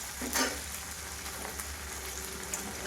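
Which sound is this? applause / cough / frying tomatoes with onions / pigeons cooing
frying tomatoes with onions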